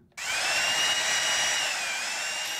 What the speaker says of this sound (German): Ihr bohrt da rein?